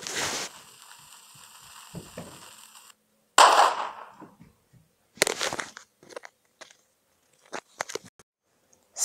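Fourth of July consumer fireworks crackle and pop in scattered bursts, with a sustained fizzing shower at the start, a sharp bang, then irregular snaps and crackles separated by silence.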